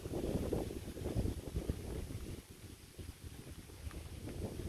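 Strong wind gusting through trees and plants during a heavy rainstorm on a roadside, a steady loud low roar with buffeting surges across the whole stretch and no voices.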